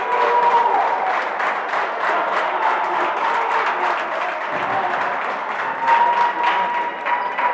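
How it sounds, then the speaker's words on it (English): Crowd and bench players applauding at a high school basketball game near the end, a steady wash of clapping and cheering from the gym that holds throughout without letting up. "The players on the bench for the Sachems applauding."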